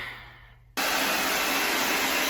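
After a quiet moment, a hair dryer switches on abruptly and blows with a loud, steady rushing whoosh and a faint high whine.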